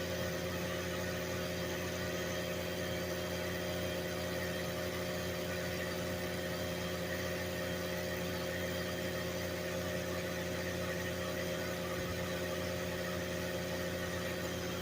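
Vacuum cleaner driving a homemade oil extractor, a steady, even drone with a constant hum that runs unbroken and fairly quiet, with no one speaking.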